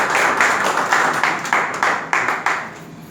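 A church congregation clapping in praise of the Lord, steady rhythmic handclaps from many people in unison, about three per second, close and lively with no talking.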